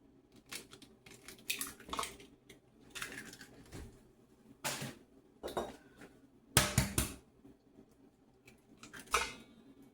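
Two eggs are cracked for chocolate chip bar batter in a home kitchen: sharp, close clicks and taps come in short separated bursts between quiet gaps.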